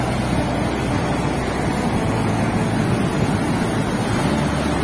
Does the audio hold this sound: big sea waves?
yes